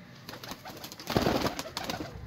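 Pigeons coo softly in a loft in Lahore, where Teddy and Lal Pari fancy breeds are kept. Several low, murmuring calls overlap and swell in the middle of the stretch, with no talk.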